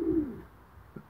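Homing pigeon hen, back from a 1030 km race from Brussels, giving a short low coo close by, followed by a faint second soft note.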